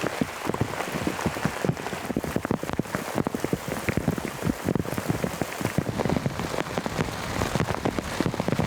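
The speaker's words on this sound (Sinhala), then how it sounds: "වහිනවා කි හයියෙන් වහිනවා." Heavy rain pours down beside a lake at a campsite, with a dense, continuous patter of drops on nearby surfaces throughout and no voices.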